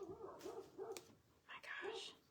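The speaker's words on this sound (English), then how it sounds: "I hear the big dogs out there barking." Several large dogs bark outside at a distance, a few rhythmic yaps over about two seconds, faint and muffled, with someone speaking softly nearby.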